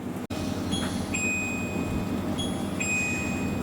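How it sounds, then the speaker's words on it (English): A Guten brewing system chimes to signal mash out, two sets of clear electronic tones ringing out over a steady background hum. "Got the chimes going there now, so that's mash out all done"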